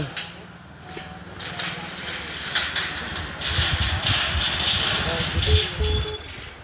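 A motorbike crosses the Chandani Dodhara bridge in Nepal, its engine rising to a moderate rumble midway and then fading, partly under a person talking over the traffic noise.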